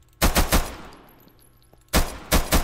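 Video game gunfire at a police shooting practice in Minecraft: two bursts of rapid, loud shots, each with two or three quick reports, separated by a second of quiet.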